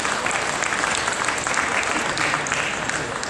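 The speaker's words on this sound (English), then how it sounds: "Let's give them a round of applause" An audience at a market steer show applauds the show staff with brisk, even, continuous clapping that stays at a steady loudness from start to finish.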